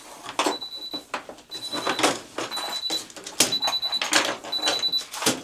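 A Miele dryer, running empty with its blower wheel, sounds a steady tonal beep about once a second, five beeps in a row, over clattering handling noises and brief talk.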